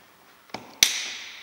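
Plastic door trim being pried off a Seat Ibiza door panel: a soft click, then a sharp loud snap as the clip releases, followed by a brief hissing rustle of the plastic, close up with no talking.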